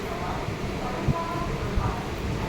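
An almost empty train carriage rumbles on the move, with a low continuous roar and a couple of brief knocks from the wheels over the track. The sound stays steady and is heard from inside.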